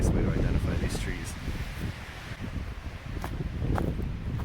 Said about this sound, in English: the wind is pretty intense up here